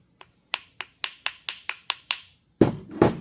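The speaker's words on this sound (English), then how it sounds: "I usually take my little hammer here" Small hammer tapping metal parts of a Firestone Car Cooler swamp cooler into place: eight sharp, evenly spaced metallic taps ring close and clear, followed by a duller, heavier knocking at the end.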